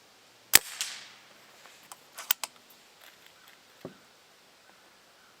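A Pinty Nightfall .22 air rifle fires pellets, producing a sharp close crack followed by a few softer clicks and knocks of handling in an otherwise quiet setting.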